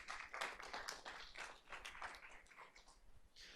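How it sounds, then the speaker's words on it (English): A room of board workshop attendees claps for the presenters, a steady patter of many hands that stays fairly faint and distant, with no talk over it. "If this group will give them a round of applause"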